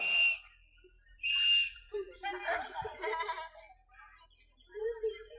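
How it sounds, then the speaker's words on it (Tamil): Two short, shrill safety whistle blasts ring out close by during a firefighters' demonstration, separated by a pause, followed by a person speaking. "சரி இந்த விசில் எதுக்காக வச்சுருக்கோம்"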